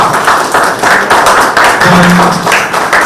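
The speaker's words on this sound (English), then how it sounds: "A big round of applause" Loud, dense applause fills a hall at an award ceremony, many hands clapping together in a steady, close wash of sound with a brief hum beneath it.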